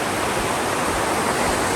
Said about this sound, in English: And of course, over this waterfall,